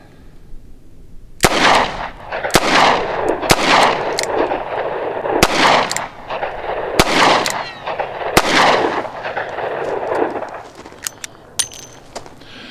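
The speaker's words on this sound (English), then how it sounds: "So let's fire the first 3 rounds double action, and then the next 3 we'll fire single action." A revolver firing rounds double action at a target outdoors, about eight sharp, loud shots spaced a second or so apart, each with a booming echo that lingers, and no talk.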